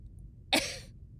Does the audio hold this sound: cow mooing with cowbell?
no